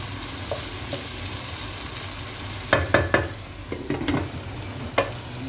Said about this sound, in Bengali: শুটকিটা সুন্দর কষানো হয়ে গেছে